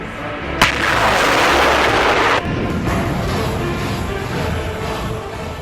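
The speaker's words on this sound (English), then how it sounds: "The moment of the BM-27 Uragan MLRS attack on the Ukrainian Military Logistics Center was recorded on camera" Russian BM-27 Uragan multiple rocket launcher firing a salvo of rockets during combat, heard as a sharp blast followed by a sustained roaring rush of rocket launches that cuts off abruptly, leaving a steady rumbling background.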